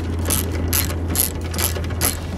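A ratchet wrench tightens the headlight housing bolts on an Audi S4, giving loud, close bursts of clicking in an even rhythm of about five pulls over a low steady hum.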